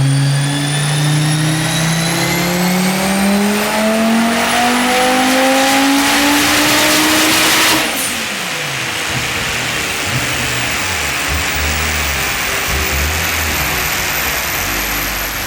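Audi quattro Group S car on track, its engine loud and close as it accelerates hard through rising gears for about eight seconds, then backing off to a lower steady drone with faint tire noise and no talking.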